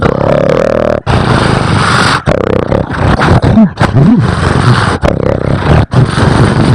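A comedian performs a loud, exaggerated snore imitation on stage: a harsh, rasping roar with a few brief pauses and gurgling swells, close, intense and distorted.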